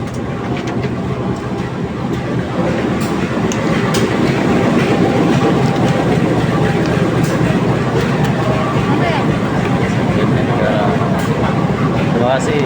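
Majapahit passenger train running on rails on a trip toward Jakarta, a steady rumble with rhythmic clickety-clack heard from inside a carriage, voices talking faintly under it throughout.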